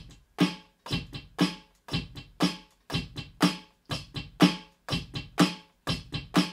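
A drum kit plays the beat of a song, with a steady driving pattern of sharp, regular hits repeating about twice a second, loud and close with no other sounds.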